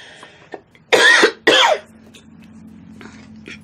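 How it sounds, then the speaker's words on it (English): Two harsh, loud coughs in quick succession, close up, with a small throat sound before and quiet breathing after. "I don't know why all of a sudden I'm coughing."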